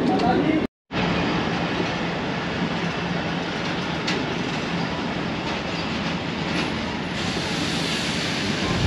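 Pakistan Railways' 14DN Awam Express rolls out of Gujrat station, a steady close rumble of the carriages with faint wheel clatter and a brief dropout near the start; a voice is faintly present.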